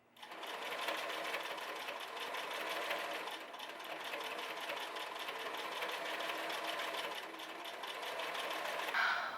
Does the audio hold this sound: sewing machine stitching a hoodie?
yes